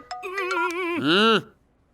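A phone rings in a Hindi film scene, giving a bright electronic melodic ringtone of stepped tones that ends in a warbling flourish and then cuts off after about a second and a half.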